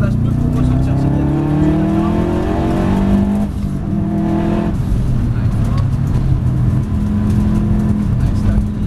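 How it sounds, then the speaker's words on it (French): A Subaru Group A rally car with 385 hp accelerates hard, its engine pitch climbing then dropping as it shifts, loud and close from inside the car with voices talking over it. "Là, j'accélère."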